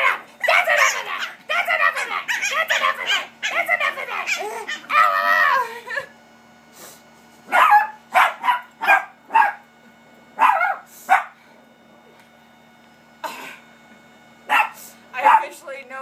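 Small puppies in a rough play session give bursts of high yaps and yips, loud and close, some short and clustered, others spaced apart with quiet gaps between, the first stretch dense and continuous with a faint steady hum underneath.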